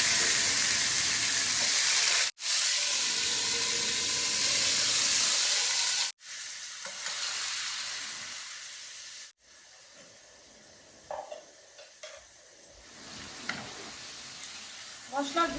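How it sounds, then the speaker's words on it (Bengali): Chicken frying in spiced masala for a home mehndi preparation meal, a steady broad sizzle and hiss broken by a few sharp cuts, then quieter stretches with faint clinks and stirring. "চিকেন একটু ফ্রাই করে দিব"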